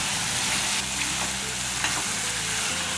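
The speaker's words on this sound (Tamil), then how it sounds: "இந்த அளவுக்கு நல்லா வதக்கிக்கலாம்" Steady, loud sizzling of garlic and tomato frying in a pan for chutney, with faint stirring scrapes now and then and no voices.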